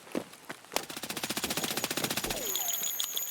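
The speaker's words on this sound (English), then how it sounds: "you can shoot through certain items in the game, such as this blue cloth" Automatic gunfire in Escape From Tarkov, shot through a blue cloth: a couple of single shots, then a rapid, steady burst of evenly spaced rounds, followed by a falling tone and a high ringing.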